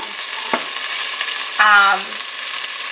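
Meat sears in a hot pan for birria, giving a steady close sizzle and crackle throughout, with a couple of brief stirring scrapes from a utensil.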